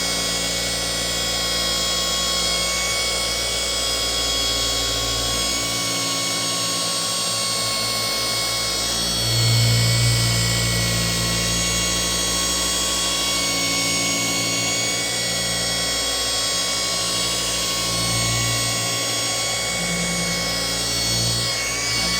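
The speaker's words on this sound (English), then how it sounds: "this clear is soft, so it's not going to take a whole lot of polishing" A machine polisher works soft clear coat on a Porsche's paint, giving a continuous loud whirring drone with a steady high whine and a few brief low surges as the pad moves, with no voices.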